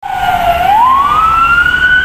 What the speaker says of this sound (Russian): Когда едет скорая, машины все становятся ряд и освобождают дорогу.